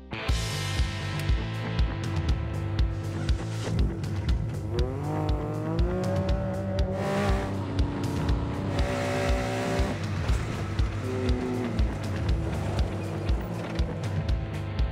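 A Baja-style Volkswagen Beetle accelerates hard for a jump, its engine revving loud and close with rising pitch. Repeated surges and gear changes continue for the whole stretch.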